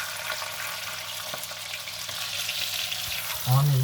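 A leg of lamb browning in butter and oil in a pan makes a steady frying sizzle, joined near the end by a louder low hum.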